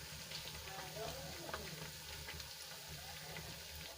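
Roti-based snack frying until crisp in a pan, giving a steady, even sizzle with light crackle throughout, close by and moderately quiet, no talking.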